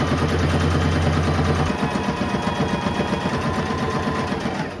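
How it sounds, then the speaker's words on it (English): A sewing machine runs a straight stitch up the back panels of a dress sewn from a thrifted bedsheet. It gives a steady, fairly loud mechanical drone with a fast stitching rhythm that carries on through the whole stretch. "I'm gonna do a straight stitch from this point here where we had our little mark all the way up to the top here"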